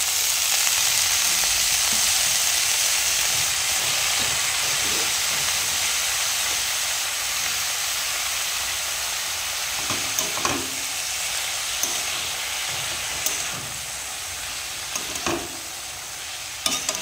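Pea shoot greens hit a hot pan with lightly fried potatoes, setting off a loud, steady hissing sizzle that eases slightly over time, with scattered clicks of stirring and no talk.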